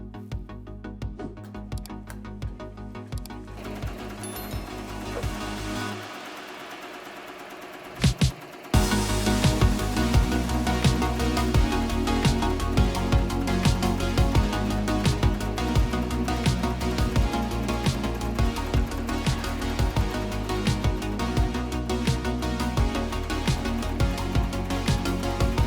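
An embroidery machine stitches embossed lettering onto a jacket with a fast, rhythmic mechanical chatter, quieter at first, then a brief pause and a loud, steady run of close repetitive stitching.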